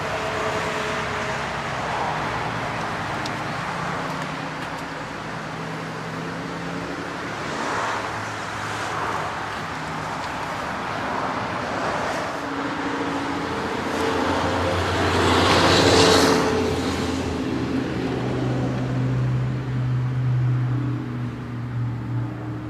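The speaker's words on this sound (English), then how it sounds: "let's go ahead and start her up, let her run" A 1949 Pontiac Chieftain Deluxe 8 idles with a steady, even engine hum, swelling briefly partway through before settling back to a smooth, continuous running note with no voices.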